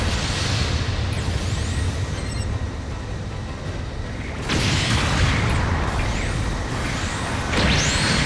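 Explosions from a destroyed enemy mobile suit in the Gundam Battle Operation 2 video game, loud booming bursts with sweeping whooshes over a dense, continuous roar of battle noise, with a heavier blast about midway.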